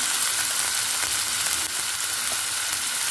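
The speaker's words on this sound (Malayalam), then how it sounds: "ഇനി ഇത് നന്നായിട്ടൊന്ന് വഴന്ന് വരട്ടെ കേട്ടോ." Chopped green chillies saute in a hot pan with a loud, dense, continuous sizzle that fills the moment close up, steady throughout with only a slight dip midway and no speech.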